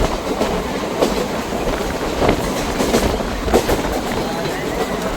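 Passenger train on the Kalka–Ambala Cantt line rolling along the rails, a steady loud rumble with rhythmic clickety-clack wheel beats and occasional sharp rail clanks, heard from inside the carriage.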